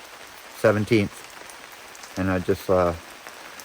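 Steady rain patters outside as a continuous soft hiss throughout, with someone talking intermittently over it close to the mic.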